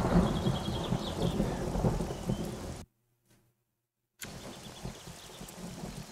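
Rain and thunder in the survival video game 7 Days to Die: steady rainfall with low rumbling thunder, broken by a sudden total dropout of more than a second before the storm noise resumes at the same level, with no voices.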